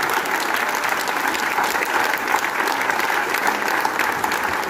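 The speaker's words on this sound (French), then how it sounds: "je vous demande de faire un clin d'applaudissement" Steady, dense applause from a festival audience during a closing speech at the Tout se Chante festival, a continuous loud wash of many hands clapping with no voices over it.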